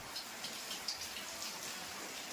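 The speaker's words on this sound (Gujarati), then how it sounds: "આજ વરસાદ પણ ચાલુ થઈ ગયો છે આજ સવારનો 9 વાગ્યાનો." Steady rain falls outside a home in Chalala, making a dense, even hiss with scattered soft patters of drops, fairly faint and continuous throughout.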